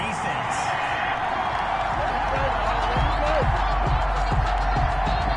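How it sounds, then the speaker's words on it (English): A football video game crowd rumbles with sustained, dense noise and a broad disapproving din, loud and continuous, with a commentator's voice running over it. "Well, the crowd doesn't like that."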